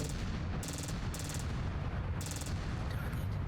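Ballistic weapons firing at a Marauder mech in the Mechwarrior 5 Clans video game, with a Dire Wolf build: three sharp bursts of rapid gunfire over a constant booming low rumble, close and punchy.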